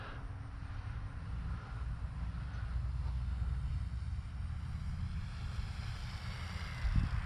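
A Timber RC airplane comes in to land outdoors, a faint low motor drone mixed with wind noise, steady and distant throughout.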